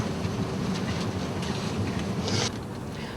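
Passenger train running from London Euston to Birmingham, heard from on board as a steady broadband rumble and hiss of rolling wheels, with a brief brighter swell partway through, continuous and fairly loud throughout.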